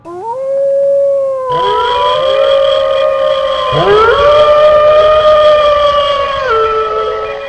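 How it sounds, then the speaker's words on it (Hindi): Several stray dogs howl together in long, wavering, overlapping cries that rise and fall, loud and close, with no talk over them. "आसपास घूमते लावारिस कुत्तों के रोने की आवाज़ से जगवीर के कान फटे जा रहे थे।"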